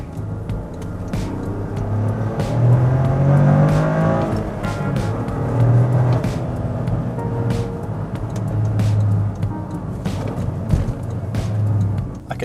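A 2024 Toyota GR Corolla driving hard, heard from inside: a loud, continuous engine roar that rises and falls through shifts, with rumbling road noise and small sharp clicks throughout.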